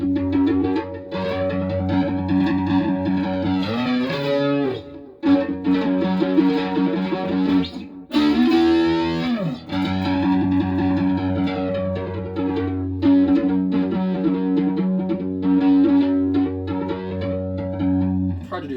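A Donner Stratocaster electric guitar played through a Boss Katana II 50-watt amp with effects, sustained chords and sliding notes ringing out with thick, processed tone, brief pauses between phrases.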